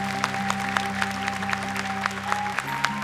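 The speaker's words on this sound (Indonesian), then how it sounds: "Tepuk tangan untuk Naja dan juga Mama." Studio audience applause on an Indonesian Quran memorization TV show, steady clapping with music held underneath, brief and moderately loud.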